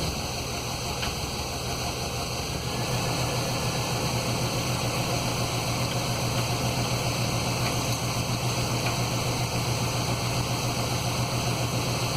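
A 1995 Chevy 1500 truck engine runs steadily while being run through the gears after a transmission fluid and filter service, a constant loud drone with a faint shift in tone early on and no talking.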